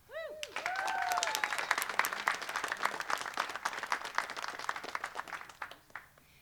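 Applause at a City Hall press conference for the Workforce Education and Recovery Fund, a crowd clapping steadily for several seconds after a voice trails off, individual claps standing out as it fades.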